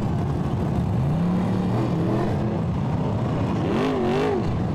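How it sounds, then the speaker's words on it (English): Dense, loud roar of Chevrolet V8 speedway race car engines revving and droning together at a world final, with rising and falling whines of individual motors cutting through the rumble. "The noise of the crowd drowned out by the Chevrolet V8 engines"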